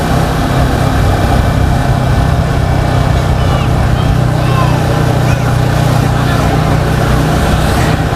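Yamaha XSR 155 motorcycle on a test ride, its engine a loud, steady low drone with rough gear changes, continuous wind and road rumble over the whole stretch.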